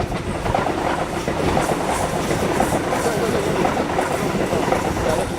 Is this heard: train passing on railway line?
yes